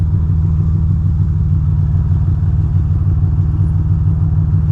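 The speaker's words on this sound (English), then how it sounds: "My bike gets a little too worked up in the morning." A motorcycle idles close by on a cold morning with the choke on, a steady, low, throbbing engine rumble that holds even and unbroken throughout.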